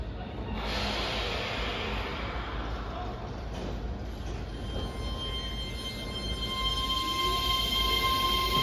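Keihan electric train carrying a headmark and side wrapping, heard as a continuous rolling rumble and hiss close by, with someone talking over it throughout.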